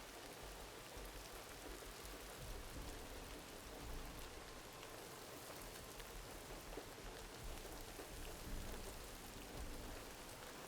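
Heavy rain in Horizon Forbidden West, a constant dense hiss of downpour striking surfaces, faint and even throughout with a low rumbling bed beneath and no speech.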